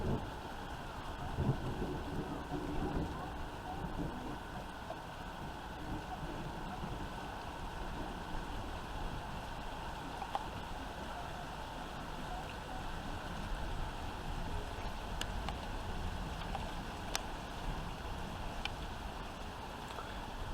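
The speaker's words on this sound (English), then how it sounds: "Here comes the rain." Steady rain falls during a thunderstorm with frequent lightning and little wind, a continuous broadband hiss and patter that stays even throughout.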